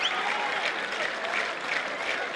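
A crowd at a men's doubles tennis match, with Swiss and Chinese fans among them, applauds steadily at moderate volume from a distance. The clapping is dense and even throughout, with no clear voices above it.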